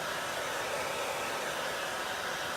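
A hair dryer blows steadily on a Chalk Couture craft layer, a close, continuous even whoosh with no change in pitch and no talking.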